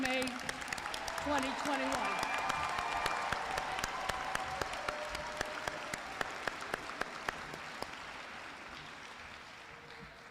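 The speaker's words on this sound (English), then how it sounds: "Let's give a round of applause for the whole class of May" An audience claps warmly for a graduating nursing class at a college pinning ceremony, sustained crowd applause that slowly fades, with a voice speaking at the start.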